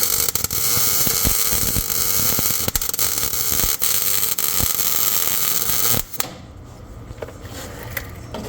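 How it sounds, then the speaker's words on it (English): Metal being welded on a 1978 Dodge, a loud, steady crackling hiss with irregular pops that runs for about six seconds, then stops abruptly and leaves quieter background noise. "if I try to make good clean weld with clean metal"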